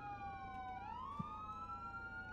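Police car siren in a GTA roleplay video game, a steady wailing tone that sweeps upward midway and holds, fairly faint over a low engine rumble, with no voices.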